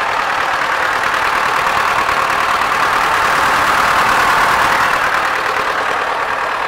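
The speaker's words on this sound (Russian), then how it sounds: "Так, ну вот я завел косилку" A Niemki E303 mower's engine idles steadily, a loud, even, continuous drone with no talk over it.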